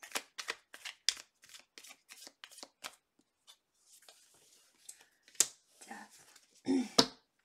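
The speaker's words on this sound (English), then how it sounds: "Last shuffle." Tarot cards are shuffled in a quick run of crisp riffles and taps, close and fairly quiet, with a few louder slaps near the end.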